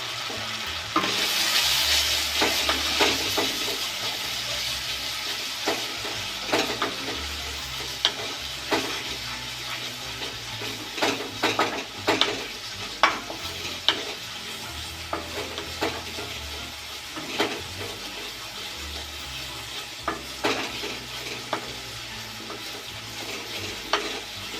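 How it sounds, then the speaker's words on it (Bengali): Bhola fish kalia and its spice paste frying in a pan, a continuous loud sizzle with frequent sharp stirring scrapes and clatters close by throughout. "খুব ভালোভাবে কষা হয়ে গেছে সমস্ত মশলা"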